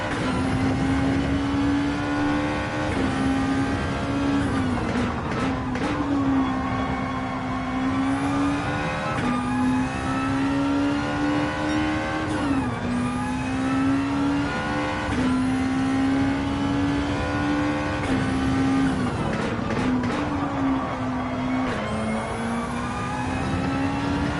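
A race car engine in the Gran Turismo video game revs loud and steady, its pitch rising and dipping through repeated gear changes as the car drives on without pause.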